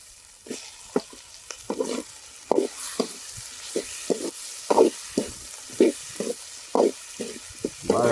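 A spoon scrapes and stirs chicken curry with tamarind in a pan after tomatoes go in, giving repeated short scraping strokes in an irregular rhythm over a soft, continuous sizzle, close and fairly loud with no voices.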